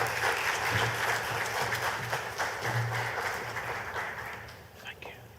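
A conference audience in Grenada applauds to welcome a speaker onstage, a broad crackle of many hands clapping that stays strong then thins out, with faint murmuring and low hum underneath.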